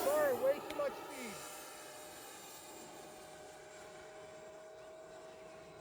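An E-flite F-16 Falcon 80mm electric ducted-fan RC jet flies past with its landing gear down, a whining tone that sweeps and then holds steady, fading into a distant hum, with brief speech at the start.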